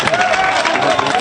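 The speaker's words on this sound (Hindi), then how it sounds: "एक बार जोरदार ताली बजाओ भाई हाशिम के लिए" Audience at a mushaira breaks into loud applause for a poet, a thick burst of many hands clapping close by, with a voice briefly heard over the crowd.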